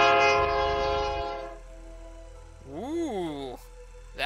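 Train sound in the Double You video game: a loud horn blast, then a low rumble of a moving train, with a rising and falling voice over it.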